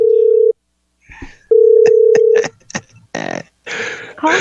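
An incoming telephone call sounds as a loud, steady electronic tone in two stretches. Short clicks and snippets of a voice follow.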